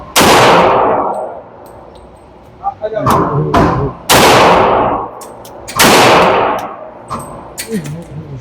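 Pistol shots ring out at an outdoor shooting range, four loud sharp cracks spaced a second or two apart, each with a ringing decay, with quieter clanks and brief sounds between them.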